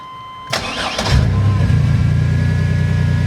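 A Chevy Astro van with a newly replaced throttle body cranks briefly and fires up, its engine catching with a rising surge and then settling into a steady, close idle.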